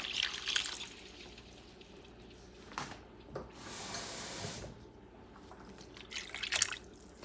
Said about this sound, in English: I'm going to add more water.